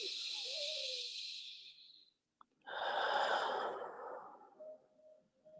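Slow, deep breaths in a yin yoga session: a long airy inhale, a brief pause, then a broad, rushing exhale, close and fairly loud, with no talking.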